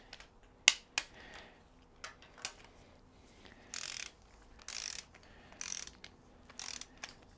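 Ratchet clicks as a torque wrench tightens cylinder head bolts on a VW 1.6L/1.9L diesel engine held on an engine stand: a sharp snap, then bursts of rapid clicking repeating every second or so, close and fairly quiet, with no talking.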